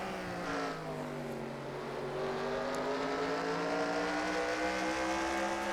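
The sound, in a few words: onboard race car engine, Cody Lamas' No. 48 car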